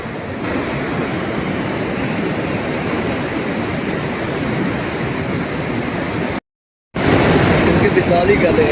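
Water rushing through the gates of the Sulemanki headworks on the Sutlej River near the India–Pakistan border, a loud, steady roar of torrent and spray that cuts out briefly and then returns.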